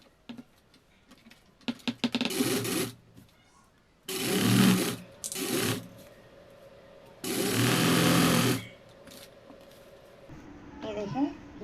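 A sewing machine stitches lace onto a chikankari kurti panel in several separate bursts of steady whirring, each a second or two long, with pauses between them where someone talks.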